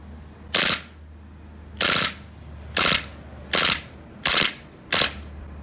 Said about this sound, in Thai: เดี๋ยวจะลองยิง แบบเซมิสักสี่นัดแล้วกันนะครับ เค แล้วปรับเป็นโหมดรัวนะครับ